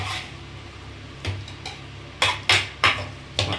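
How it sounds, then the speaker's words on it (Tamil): Metal spoon scraping and clattering against a cooking pan while ginger paste is stirred, a few sharp knocks and scrapes over low steady kitchen background, no talking. "போடு, நல்லா பேரட்டி விடுங்க."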